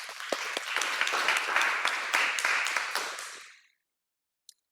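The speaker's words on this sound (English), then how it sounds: "give Michael a warm round of applause" An audience in a room applauding a speaker, a dense burst of clapping lasting about three and a half seconds before fading to silence.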